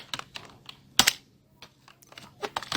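Keys clatter on a computer keyboard in short irregular bursts of close, crisp taps with brief pauses between them, and nobody speaks.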